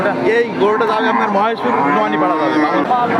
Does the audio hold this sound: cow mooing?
yes